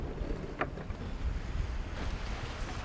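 Strong wind roars steadily over a boat at anchor off Rum Cay in the Bahamas, a continuous broadband rush with gusty swells and water noise, and no talk.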